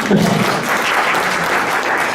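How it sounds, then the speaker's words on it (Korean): Audience applause welcoming a crowdfunding investment manager to the stage at a Korean venture forum, a dense, steady clatter of many hands lasting a couple of seconds. "큰 박수 부탁드립니다"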